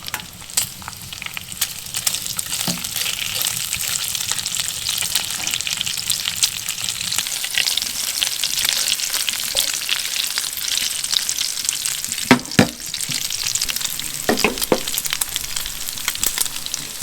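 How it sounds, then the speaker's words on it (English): Bacon crisps in a pan on a Winnerwell Nomad G1 medium camping stove, giving a constant crackling sizzle with occasional sharp scrapes and clatters from a utensil, and no talk. "Should get nice crispy bacon now."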